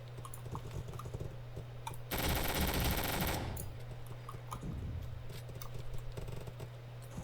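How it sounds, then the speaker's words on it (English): Rapid video game gunfire bursts out loudly for about a second and a half amid a steady hum and faint clicking, then drops back to softer background game sounds. "Bro, stop shooting at me!"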